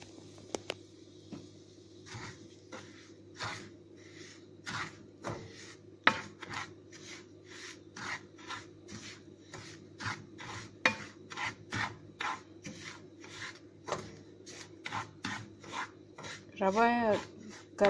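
Rava (semolina) being stirred and fried in a pan, a steady run of scraping strokes from the spatula against the pan at an even rhythm, close and fairly quiet.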